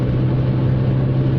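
A Toyota Starlet cruises in fourth gear at around 40 mph, giving a steady low engine drone with road rumble that holds even and unbroken throughout.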